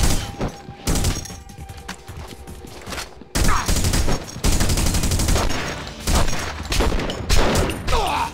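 Dense, loud gunfire from The Punisher video game, rapid automatic bursts and shots crackling almost continuously with brief lulls.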